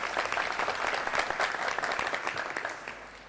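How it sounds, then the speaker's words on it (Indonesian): An audience at an MPR RI quiz competition applauds a team with dense, lively clapping, loud at first and tapering gradually toward the end. "Tepuk tangan untuk Regu B."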